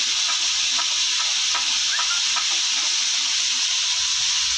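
Potatoes frying in a pan with a steady, loud sizzle, while a spoon stirs them in a few soft scraping strokes. No voices.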